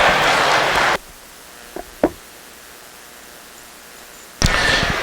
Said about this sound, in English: let's give them a round of applause for bringing out a couple to make me scratch my head